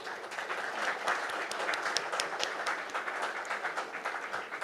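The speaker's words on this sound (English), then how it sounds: "I think a huge round of applause for our very, very esteemed panel." An audience at a conference inaugural session applauds a panel in a large multipurpose hall, a fairly faint but sustained wash of many hands clapping with scattered sharper claps standing out, no speech.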